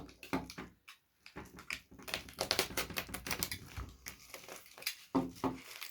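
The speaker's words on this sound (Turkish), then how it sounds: "Şuradan ufaktan açmaya başlayacağım. Umarım kutusunu falan da kesmeyiz." A cardboard shipping box holding a Nibosi 1985 wristwatch is cut open up close, with irregular scraping, crackling and clicking bursts broken by short pauses. No voices are heard.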